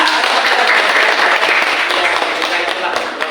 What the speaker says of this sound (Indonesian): Tepuk tangan buat Anda.